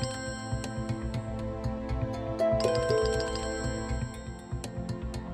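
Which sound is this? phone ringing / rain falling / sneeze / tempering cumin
phone ringing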